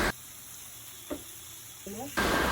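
Vegetable paratha filling with white pepper, tomato ketchup and oyster sauce sizzles steadily in a hot pan, with a few soft stirring scrapes breaking through the constant frying hiss.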